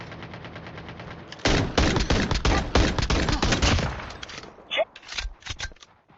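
Rapid gunfire from a shooter video game with pistol-type weapons, loud bursts of repeated shots packed together, then a few sparser shots near the end as a player speaks under the noise.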